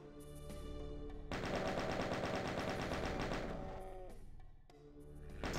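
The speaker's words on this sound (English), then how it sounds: "There's a chain gun coming on." A chaingun in the shooter Doom 2 fires a loud, sustained burst of rapid shots lasting several seconds, then cuts off as the surrounding game sounds continue.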